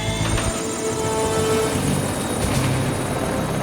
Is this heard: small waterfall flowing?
no